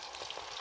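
Chicken legs fry in hot oil in a home kitchen, giving a brief, steady crackling sizzle at close range with no voices.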